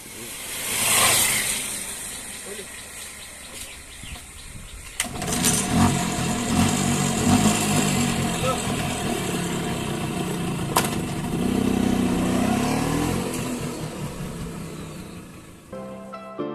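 A Vespa scooter engine drones steadily while riding, with revving swells and rumble throughout, and someone talks over it at times.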